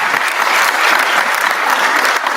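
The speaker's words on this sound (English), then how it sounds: "I didn't think the applause was sufficient enough," Dense, steady audience applause at a legislative session, a continuous wash of many hands clapping at an even loudness for a couple of seconds with no speech over it.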